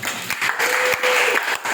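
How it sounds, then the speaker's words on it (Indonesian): Students at a school leadership training session clap together in a short, close burst of applause lasting under two seconds, uneven and lively. "Ya tepuk tangan dong."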